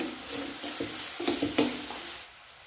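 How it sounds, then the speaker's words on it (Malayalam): Onions sautéing with salt in a pan for a green chana masala, a soft sizzle with a few brief stirring scrapes and taps, fading out near the end. "ഈ സവോള ഇവിടെ നന്നായിട്ട് വഴന്നിട്ടുണ്ട്."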